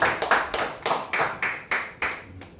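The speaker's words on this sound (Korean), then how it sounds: "우리 함께 박수로 기도하겠습니다" A church congregation claps in unison, about nine even, sharp beats in a steady rhythm, moderately close, with no talking.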